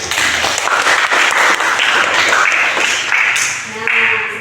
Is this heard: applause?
yes